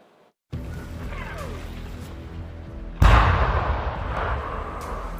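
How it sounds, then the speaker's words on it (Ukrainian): Artillery fire in the war in Ukraine: a sudden heavy boom breaks in after a background rumble and fades into a long rolling echo, with a quieter earlier blast and scattered distant thuds. "Наша артилерія працює на русських."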